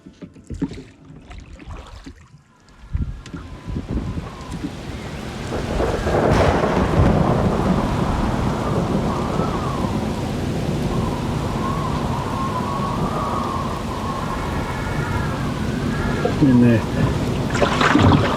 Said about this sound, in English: We're in this storm now. It's really unpleasant.